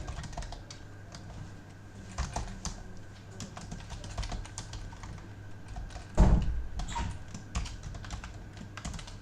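Someone types code on a computer keyboard, a close, irregular patter of key clicks with a few scattered pauses and one heavier thump around the middle, with no talking.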